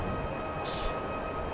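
Simulated NS DDZ double-deck train in Train Simulator 2014 rushing through a sharp bend at high speed, steady rumbling rail noise and cab hum with a brief hiss partway through.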